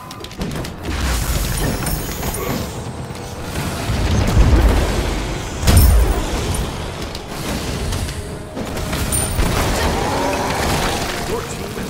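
An enemy tower collapses in the SMITE video game with heavy booming crashes and rumbling debris, swelling in two big impacts over a continuous clatter of battle effects.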